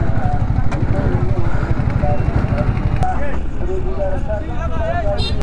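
Ferry arriving at Amtali ferry ghat on the Payra river: a steady low engine rumble close by, with people talking over it throughout.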